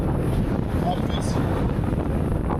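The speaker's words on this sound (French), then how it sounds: "En plus du vent qui arrange bien" Strong wind blows outdoors in a steady, loud roar, buffeting the microphone continuously with no let-up, on a sunny day.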